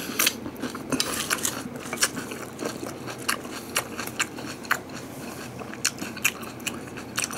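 Someone eats salad vegetables dressed with a fat-free lime pineapple dressing: steady close crunchy bites and chewing, with light clinks of cutlery against a dish, and no talking.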